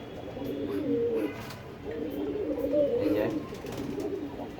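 Domestic pigeons kept for sale coo in repeated low, throaty bursts, close by, with a speaker talking over and between the calls.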